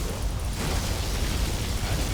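A dense, roaring blast from a particle cannon in the video game Command & Conquer: Generals Zero Hour fills the whole clip, a sustained heavy explosion rumble without pause.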